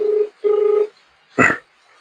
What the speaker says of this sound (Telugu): మనం శ్రీకాంత్ ఫోన్ చేస్తున్నాము